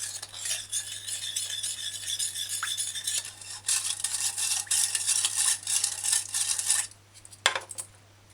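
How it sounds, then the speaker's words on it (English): A spoon stirs chicken wing sauce ingredients with cornstarch, scraping and rattling steadily against the bowl for several seconds, close and continuous, then stops, leaving a few faint knocks. "just gonna mix the ingredients in so you can mix out the cornstarch"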